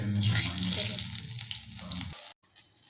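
Chili fritters (mirchi bhaji) dipped in batter and dropped into hot oil give a steady, loud hissing sizzle with a low rumble beneath. The sizzle cuts off abruptly after about two seconds, leaving brief faint clatter.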